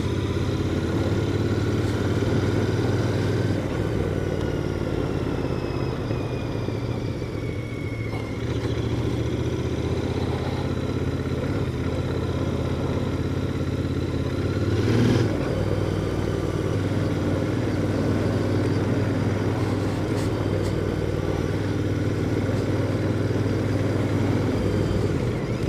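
Royal Enfield Interceptor 650 twin-cylinder motorcycle engine running steadily in fourth gear while riding, a continuous loud close-up drone with only slight shifts in pitch and no voices.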